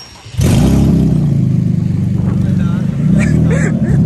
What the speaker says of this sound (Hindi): स्टार्ट तो करो गाड़ी पहले।